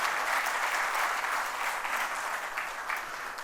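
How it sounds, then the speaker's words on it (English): An audience at a supply chain management awards ceremony applauds in a steady, dense wash of clapping that holds evenly throughout and fades slightly toward the end. "Big clap to them."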